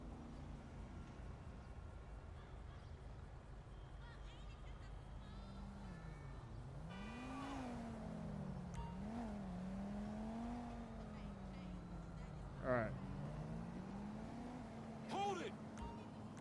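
A car in GTA 5 revs and drives in a police patrol scene in Los Santos, engine tone rising and falling with shifting pitch, faint beneath ongoing conversation.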